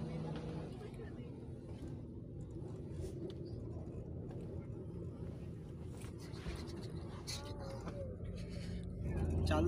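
Inside an AC sleeper bus travelling at high speed, a low engine and road rumble drones continuously, with faint voices in the cabin and a swell of louder noise at the very end.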